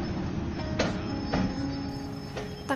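A train rumbles steadily at a station with metallic screeches and clanks rising over the low roar, no voices.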